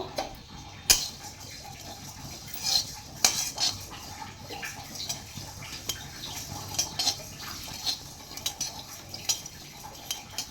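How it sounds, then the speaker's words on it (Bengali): Coriander, fennel and cumin seeds are dry-fried lightly in a pan, heard as repeated metal utensil clinks and scrapes against the pan with a faint background sizzle and no voices. "এখানে আমি ধনে 1 চামচ, মৌরি 1 চামচ আর গোটা জিরে 1 চামচ নিয়ে নিয়েছি। খুব হালকা করে ভেজে নেব।"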